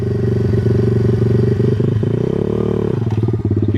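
A Welsh Pit Bike 125cc motorcycle runs loud and close, its engine chugging and revving unevenly as a beginner rider sets off, with some mechanical clatter.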